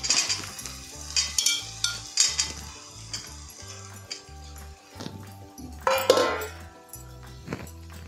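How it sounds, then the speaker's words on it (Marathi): Plantain pieces tumble into a pan on a low gas flame, then fry with a steady sizzle while a metal spoon clinks and scrapes as they are stirred; a rhythmic low hum runs underneath. "आता हे केळ्याच्या फोडी टाकते आहे."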